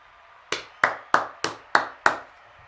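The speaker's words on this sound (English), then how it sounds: "Where's that round of applause?" A single person claps six times at an even pace, sharp and close, with nothing else heard between the claps.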